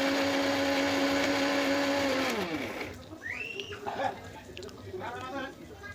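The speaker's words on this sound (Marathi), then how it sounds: "आपला भाजलेला मसाला म्हणजे कांदा भाजलेला, लसूण आणि खोबरं त्याच्यामध्ये थोडं पाणी घालून मिक्सरला चांगलं बारीक वाटण करून" A mixer grinder blends roasted onion, garlic and coconut with a little water for a Maharashtrian chicken masala, running loud and steady before winding down, then someone speaks over faint kitchen noise.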